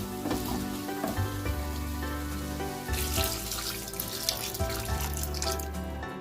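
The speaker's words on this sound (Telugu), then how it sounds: "ముక్కలన్నీ మునిగేంత వరకు వేసుకున్నాను వాటర్." Water pours steadily into a cooking pot of chopped snail curry on the stove, a continuous splashing rush that stays close and fairly constant, with no talking.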